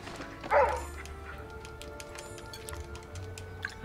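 A single short dog bark or yip from Tao the dog in the Palia video game, quick and moderately close, followed by quiet in-game ambience with faint ticking.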